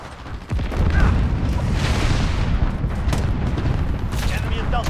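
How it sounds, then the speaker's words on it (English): A cruise missile strike in Call of Duty Modern Warfare lands as a sudden loud, close blast. A rumbling, crackling roar follows and carries on, with a voice speaking over it. "Enemy cruise missile."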